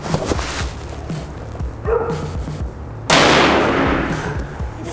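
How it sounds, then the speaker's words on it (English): A suppressed rifle shot through a Gunwerks 6ix Ti titanium suppressor cracks loudly and alone, one sharp broadband report followed by a decaying tail, with a smaller impulsive thump shortly before it. "Let me shoot one more."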